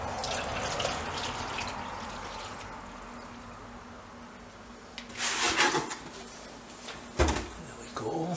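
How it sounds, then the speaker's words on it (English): Liquid drips from a small bung in the bottom of a container on a BM B44 motorcycle, faint and sparse at first, then broken by a few louder splashy bursts near the end. "that's dripping out of the little bung I put in the bottom"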